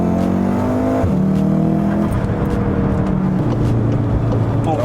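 Volkswagen Golf R with an open exhaust revving hard, loud engine tones climbing and dropping through several gear-like steps, with no pause in the continuous roar.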